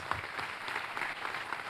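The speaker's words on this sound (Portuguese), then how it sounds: "Vamos aplaudir em nome de Jesus" A congregation in a church service applauds in the name of Jesus: a thin, scattered patter of claps at moderate distance, uneven and somewhat sparse over a short stretch.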